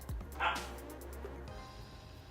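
A husky in a crate lets out a short high yip and bark near the start, followed by quieter whining against a low background hum.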